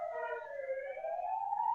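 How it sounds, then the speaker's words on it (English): A siren wails near a hospital, its tone sliding slowly downward and then climbing again, steady and fairly loud, with no other sounds over it. "I live close to a hospital, and there are all the sirens now going on."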